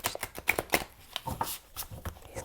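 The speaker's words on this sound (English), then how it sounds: "These cards are very hard to shuffle." Playing cards shuffled by hand in a crisp, close burst of riffling and clattering, a string of short, sharp rustles with small pauses between them and no talk.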